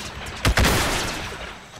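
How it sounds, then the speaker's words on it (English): A single heavy boom from an artillery weapon in the Roblox game Clone Wars on the jungle planet Felucia, with a sharp blast followed by a long rumbling decay and no talk. "I didn't realize it could shoot like that."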